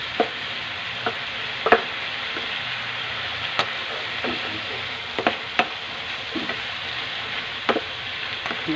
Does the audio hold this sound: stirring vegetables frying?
yes